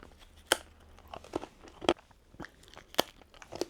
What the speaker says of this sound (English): Let's get another bite of crackers and jelly.